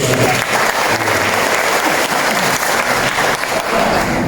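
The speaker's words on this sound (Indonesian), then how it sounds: "Kita berikan aplaus dulu" Loud, dense applause from a crowd at a community gathering in RW 05, Kapuk, held steady for the whole stretch with a faint voice underneath.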